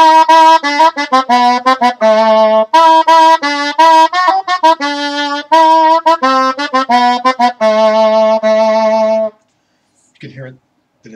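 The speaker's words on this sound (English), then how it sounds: "This is an alto, which obviously is larger, and so it's going to sound lower." An alto shawm (rauschpfeife), a larger, lower-pitched double-reed instrument, plays a lively sequence of bright, buzzy, reedy notes alone, with quick articulated phrases, then stops and a couple of faint brief sounds follow.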